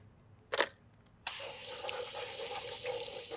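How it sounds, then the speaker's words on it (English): An Amiga 1000 mouse shell is rinsed under a running tap to wash off hydrogen peroxide: a short knock, then a steady, fairly loud rush of water that runs until the end. "A quick rinse is needed to remove any residual hydrogen peroxide"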